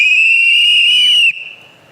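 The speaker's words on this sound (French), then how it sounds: "un sifflet, le sifflet machine production, pour faire du bruit pour notre industrie" A machine production whistle is blown once in a TV studio, a loud, piercing steady tone lasting just over a second before cutting off.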